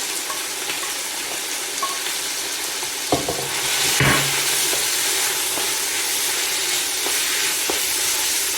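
Chopped onions, four large ones for a chicken curry, sizzle and fry in a pan with a steady loud hiss, broken by a couple of stirring clinks and scrapes near the middle.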